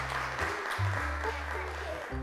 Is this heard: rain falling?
no